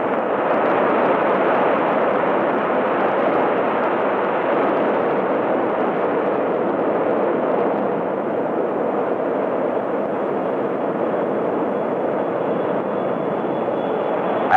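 Massive XB-70 Valkyrie supersonic bomber, about 540,000 pounds, taking off after brake release, a continuous loud, broad jet roar that holds steady and near throughout with no talk.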